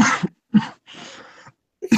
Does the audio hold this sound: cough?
yes